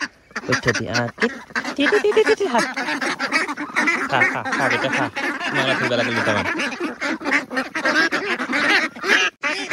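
Ducks quack in a dense chorus at a duck farm, loud and continuous from near and far, while a person handles a bird nearby.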